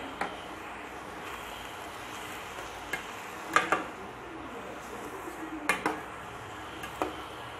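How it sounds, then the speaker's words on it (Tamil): A spoon stirs salt into banana stem poriyal in a pan, making faint scraping and a few sparse clinks against the metal in a quiet kitchen. "தேவையான அளவு சால்ட் சேர்த்து நல்லா மிக்ஸ் பண்ணிக்கிறேன்"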